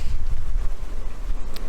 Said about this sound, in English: So, it's quite a bit windier here than it was up in the Sioux.